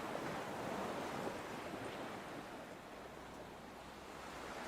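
Ocean waves crash steadily against a shore in a continuous, dense roar, with breeze and wind noise on the microphone mixed in, and no voices present.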